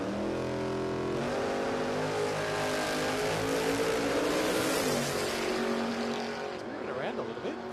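A drag racing car, the Downs Automotive Services Tirana, accelerates hard down the strip, its loud engine rising steadily in pitch across the run and fading slightly toward the end.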